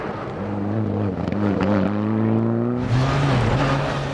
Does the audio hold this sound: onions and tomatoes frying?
no